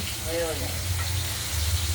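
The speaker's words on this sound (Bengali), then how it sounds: "এদিকে পটলগুলো তো ভাজা হচ্ছে" Oil sizzles steadily in a pan as halved pointed gourds fry, a constant crackling hiss with a low hum beneath and a brief voice.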